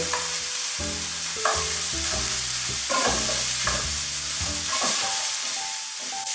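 Leftover rice being stirred into SPAM and vegetables sizzling in a pan, with a steady loud fry hiss and repeated scraping stirs, close and alone, with no talk.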